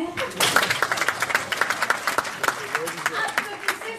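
A crowd claps in a brisk burst, individual hand claps standing out, while someone speaks French over the applause.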